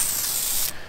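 WD-40 lubricant sprayed from an aerosol can onto a tractor tire, a steady close hiss lasting most of the second before cutting off abruptly.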